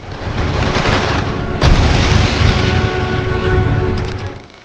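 Simulated gunfire in a dramatized reconstruction of the Jallianwala Bagh massacre: a dense, loud, continuous barrage of booming shots with a sharp crack near the middle, sustained to the end with no speech.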